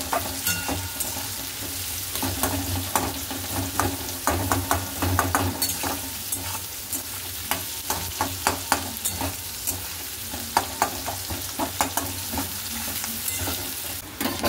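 Sliced onions and split chillies fry in oil, making a steady, close sizzle broken by regular scraping strokes of a spatula stirring the pan for the whole stretch.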